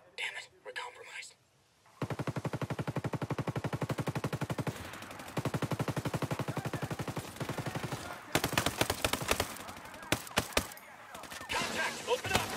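Rapid automatic gunfire rattles through a firefight in the tactical shooter Ghost Recon Breakpoint, long sustained bursts followed by scattered heavier shots, with brief voice chatter at the start.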